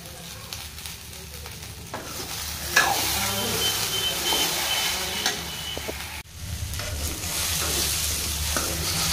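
Thinly sliced okra frying on low heat in a pan, with a continuous, close sizzle and stirring scrapes, briefly dipping midway before the sizzle and stirring resume.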